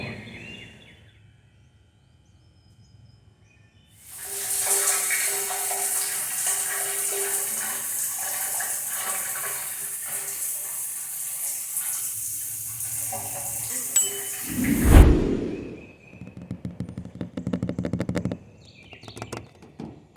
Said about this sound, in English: Time for me to go take a shower before we leave here.